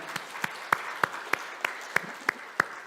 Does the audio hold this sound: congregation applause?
yes